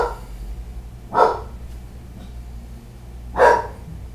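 A dog barks twice, a few seconds apart, from a moderate distance indoors over a low background hum.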